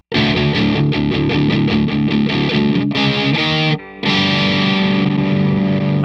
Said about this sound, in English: just to mess with the distortion sound more